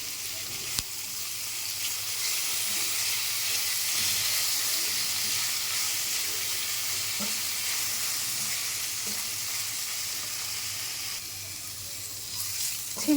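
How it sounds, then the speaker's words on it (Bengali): Capsicum frying with onion, garlic and ginger paste in a pan, a steady close sizzle running the whole time with a few soft stirring scrapes and no talking. "আর একটু সময় ভাজতে হবে"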